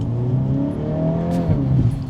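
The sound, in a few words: 2025 Volkswagen Golf R accelerating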